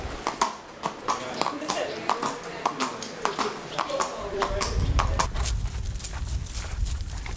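Hooves of a harness racing trotter, a 2016 Hambletonian contender, clip-clop in a steady rhythm close by while people talk over them, with a low rumble building toward the end.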